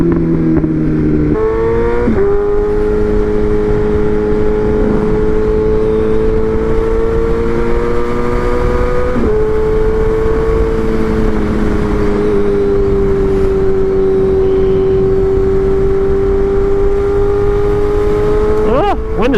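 BMW M1000R Competition motorcycle fitted with a titanium header and mid pipe, its engine holding a loud, steady drone with slight pitch shifts, heard close up under gusty wind noise.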